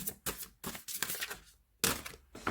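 Deck of cards being shuffled, a series of quick riffling, crackling bursts separated by short pauses, close and fairly soft, with no talk.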